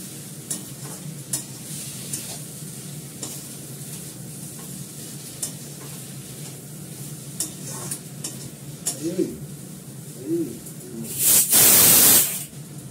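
An egg stirred with sauce in a hot frying pan: scraping stirs and steady sizzling hiss with scattered clicks and pops, swelling into a loud burst of spitting near the end.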